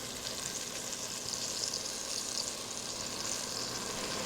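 Onions and vegetables frying in a pan for Louisiana smothered pork steak, a steady, close sizzle with faint crackles and no talking.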